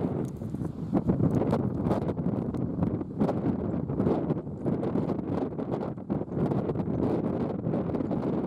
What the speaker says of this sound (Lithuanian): labai šalta ir vėjas